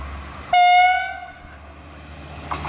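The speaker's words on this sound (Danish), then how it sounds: "Her har vi Nordjysk Jernbaners tog til Skagen." A Nordjyske Jernbaner train bound for Skagen sounds a loud, close horn blast that fades away over about a second, followed by a low rumble and faint track noise.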